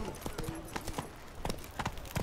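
Roach the horse trots along in a video game, hooves clip-clopping in a quick, uneven rhythm at moderate volume over a short stretch, with faint background murmur.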